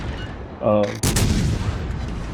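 Warship guns fire in World of Warships Legends, a loud booming salvo followed by rumbling, crackling gunfire and distant impacts, with a voice briefly heard.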